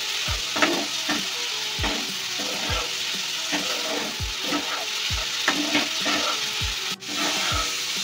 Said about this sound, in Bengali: সব কিছুকে ফোড়নের সাথে নাড়াচাড়া করে মিশিয়ে নেব।